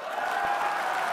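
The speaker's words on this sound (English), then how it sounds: "Big applause for the former NDP leader." Applause for Adrian Dix, the former NDP leader, at the swearing-in ceremony of the new B.C. NDP government, a steady wash of hand claps from a gathered crowd, moderately loud and unbroken across the brief moment.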